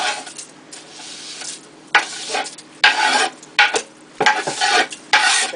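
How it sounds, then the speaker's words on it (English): Cooked ground beef is scraped from a pan into a chili pot, giving a series of close, loud scraping strokes against metal with a faint sizzle in between and no voices. "I'm going to go ahead and just scrape it right on into the pot."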